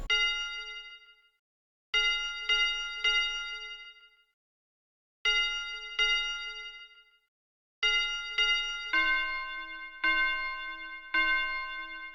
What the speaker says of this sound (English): it's gonna be the big bell preset. As you can see, it's just playing F and then C